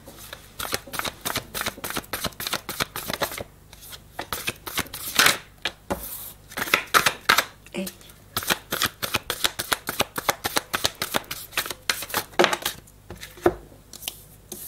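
A tarot deck being shuffled by hand, crisp papery riffles and slides repeating in quick irregular bursts with short pauses between, close and fairly quiet.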